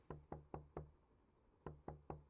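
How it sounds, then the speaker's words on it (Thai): Door knocking in the horror game Night Knock: two quick groups of three sharp, hollow knocks separated by a short pause, close and fairly loud against a quiet indoor background. "มีใคร มาเคาะประตู อีก แล้วครับ"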